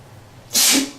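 A single sharp sneeze bursts out close to the microphone, a quick loud explosive hiss that fades in under a second.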